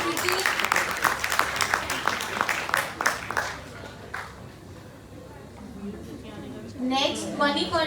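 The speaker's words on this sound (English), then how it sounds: "Clap for Preeti." Audience clapping at an English department freshers party, a dense burst of applause at the start that thins out and fades, followed by a quieter stretch with voices.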